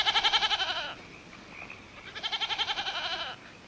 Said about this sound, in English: Nice, Billy goat.